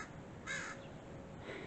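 Crows out on a morning walk give a short, fairly faint caw or two over outdoor background noise, with no voices.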